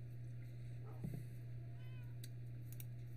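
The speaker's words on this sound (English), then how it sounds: "His cat Stinky" A cat gives one short, faint meow over a steady electrical hum, with a few soft clicks afterward.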